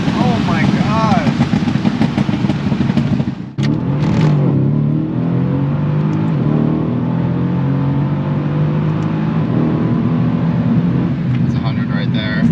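A tuned 2018 Mercedes-Benz C63S AMG accelerates hard from inside the cabin, its engine note rising through gears with a shift break, loud and steady, while people talk over it.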